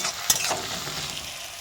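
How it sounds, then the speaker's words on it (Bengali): Onion and garlic paste being stirred as it fries in a pan, a short continuous sizzle with a brief clink of the spoon near the start, close and steady with no talking. "পেঁয়াজ আর রসুনটাকে আরও একবার ভালো করে একটু নেড়ে নিচ্ছি"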